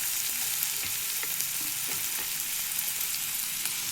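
Chopped tomato, coriander leaves and green chili fry in oil, a continuous dense sizzle close up with light stirring clicks beneath it, no voices.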